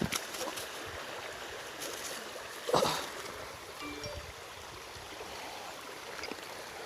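Shallow flowing stream water at a fishing spot, a faint continuous wash of trickling and rushing water with a brief splash partway through.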